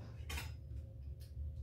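Knife cutting through a block of tofu on a board, two short quiet clicks as the blade meets the surface, close and otherwise silent.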